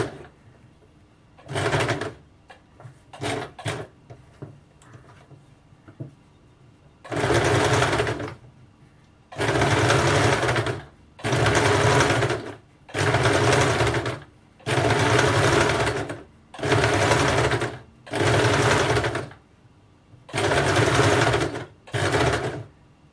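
A sewing machine stitching a blouse runs in repeated bursts of about a second each, loud and close, with brief pauses between runs and a few light clicks at the start.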